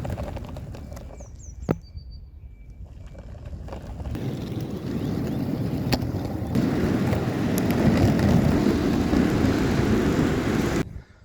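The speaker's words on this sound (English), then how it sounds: "the Airwaves with the better bearings, I think, do give it a best shot at sounding smooth" Roller skates fitted with upgraded bearings roll along an outdoor path, a steady broadband whirring rumble that swells and holds, with a few sharp clicks early on and no talking.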